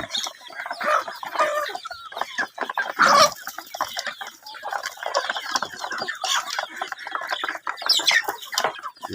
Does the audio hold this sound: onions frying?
no